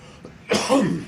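One sudden, harsh cough up close, breaking sharply out of a quieter room background and trailing off with a rough, throaty sound.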